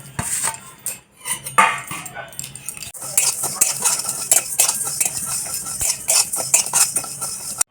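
Whole cumin, fennel, coriander and fenugreek seeds dry roasting in a pan for a homemade chili pickle, heard as a steady stir-scrape clatter of a spoon against metal with brief pauses, fairly close and alone.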